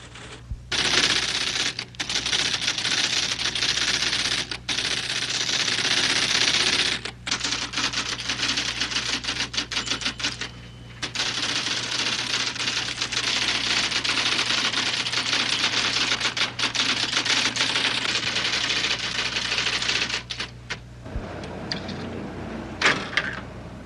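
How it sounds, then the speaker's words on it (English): Rapid, dense clatter of keys on computerized typesetting machines in a printing-house composing room, continuous and loud across the whole span with brief pauses, layered over a steady low mechanical hum. "In the composing room, devotees retype the text on computerized machines that transfer each typed letter into an electronic code"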